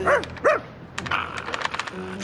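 Dog barking in a French cartoon comedy about a haunted house, two loud yelping barks in quick succession near the start, followed by busier noise and a brief voice.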